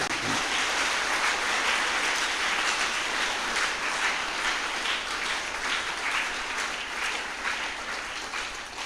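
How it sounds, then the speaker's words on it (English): Sustained, dense applause from a concert audience after a prayer concert for peace in Manipur, steady and full throughout with no pauses. "So let us give them a thunderous clap for the beautiful."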